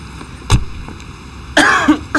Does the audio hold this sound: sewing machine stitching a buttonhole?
no